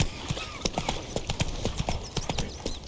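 Roach, a horse in The Witcher 3: Wild Hunt, gallops with a steady run of clip-clop hoofbeats, close and clear, the rhythm continuing throughout with no talk.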